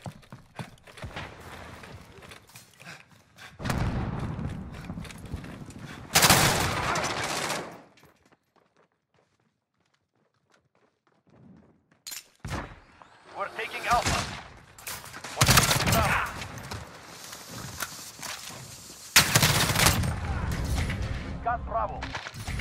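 Gunfire in a Call of Duty Modern Warfare multiplayer match: loud bursts of automatic fire and shots come in several clusters, separated by a quiet stretch, with brief voice callouts mixed in.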